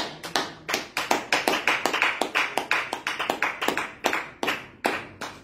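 A congregation clapping hands in praise, a steady rhythmic series of sharp claps, close and clear, with no talk.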